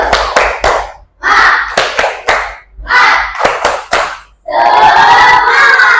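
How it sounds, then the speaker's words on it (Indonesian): Standing students in a classroom clap a rhythmic cheer in quick patterned bursts with short pauses, then break into loud shouting and cheering at the end. "tepuk semangat lagi yuk"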